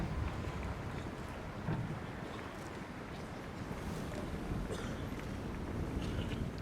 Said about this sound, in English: It's not the rain, it's the wind.